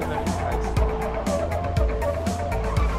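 Car engine rumble with tire-skid bursts as a vehicle is driven in the zombie game Dying Light: The Following, steady drone with repeated low thumps, speech-like voices faintly mixed in.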